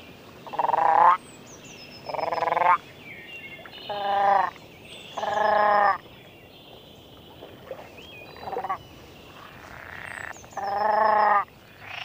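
Frogs croaking in the evening, a chorus of loud, close calls in about nine separate bursts, each lasting roughly half a second to a second, over quiet background with no talking.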